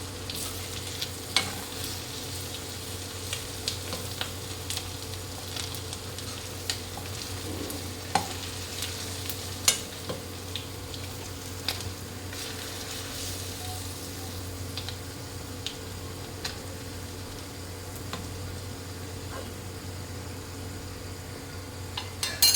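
Shrimp from the Godavari frying in a pan for biryani, a steady soft sizzle running throughout with occasional small clicks of stirring, close and fairly quiet, no one talking.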